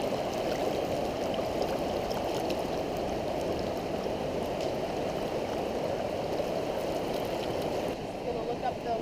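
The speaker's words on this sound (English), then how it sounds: "Just offshore here at our campsite. We got a lot of rapids tomorrow." Steady broadband rush of river rapids just offshore from a riverside campsite on a kayaking trip, continuous and fairly close, with no talk over it.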